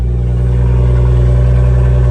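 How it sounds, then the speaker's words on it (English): A BMW M2's engine idles in a loud, steady, deep drone during a cold start with the exhaust valves closed, heard close up with no talking. "Now this is a cold start with the valve system closed."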